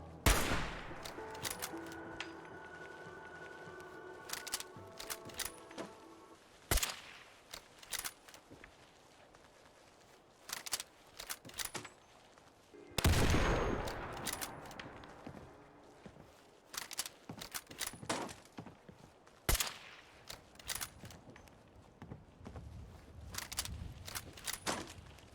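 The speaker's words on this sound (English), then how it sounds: "you can always use the optional file which makes the hunting rifle sound like a Kar 98" Kar 98–style hunting rifle firing in a modded Fallout 4, a series of loud, sharp single gunshots spaced several seconds apart, each followed by a short echoing tail and mechanical clicks of the bolt between shots.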